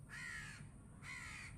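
Two loud crow caws, each about half a second long with a short gap between them, heard close by and alone with no talk.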